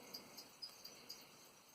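A single cricket left in a reptile enclosure chirps in short, evenly spaced bursts, faint against a quiet indoor background.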